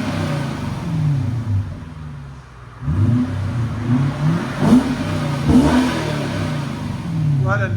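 A 2006 Lexus SC 430 with a 4.3L V8 and its muffler deleted revs repeatedly through its exhaust, deep throaty rises and falls close by, with a brief lull partway through.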